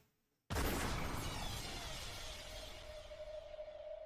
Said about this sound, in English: when the number 3 was yelled, the sound of gunfire rang out once